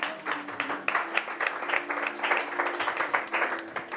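A church congregation applauds during a French-language Bible teaching, a steady mass of many hands clapping that stays fairly even and moderately loud for several seconds, with no talk over it.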